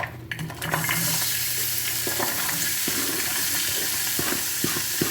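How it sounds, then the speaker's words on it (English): Vegetables hit a hot pan for pepper steak and start sizzling, a steady close hiss with a few stirring knocks and clicks scattered through it, and no talking. "So now that I can smell my pan is getting hot, I'm gonna start with these veggies."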